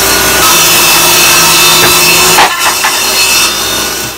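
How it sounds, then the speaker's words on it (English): A power saw rips through 3/4 inch plywood in one loud, continuous cut, the whine steady and close for about two and a half seconds before faltering and easing off near the end. "So I'm gonna rip some 3/4 plywood."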